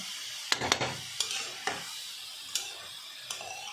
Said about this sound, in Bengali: ভালো করে ঘিটা মাখিয়ে নেওয়া হচ্ছে গাজরের গায়ে।